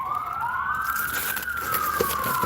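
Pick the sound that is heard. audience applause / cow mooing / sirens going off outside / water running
sirens going off outside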